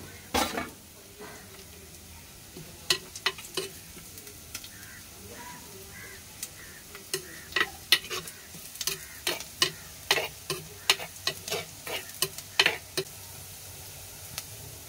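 Onions or aromatics for a Kerala tilapia fish curry cook in a pan until browned, giving a faint steady sizzle punctuated by repeated sharp scrapes and taps of a spoon against the pan, without talk.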